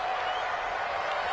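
Stadium crowd noise from an NFL football video game on PS4, a steady loud roar of cheering building ahead of a big third down, continuous and dense with no clear individual voices.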